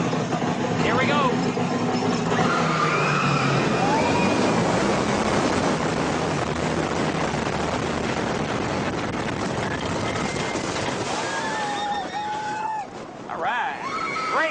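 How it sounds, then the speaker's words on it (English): The Top Thrill Dragster roller coaster at Cedar Point gives a loud, continuous rush of wind and track roar across the ride, with shrill screams and cries on and off, easing near the end as the train slows. "Great ride."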